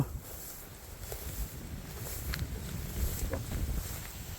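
Steady wind blowing across an open rice field during harvest, a broad rushing noise with gusts that rise and fall, alone with no talk.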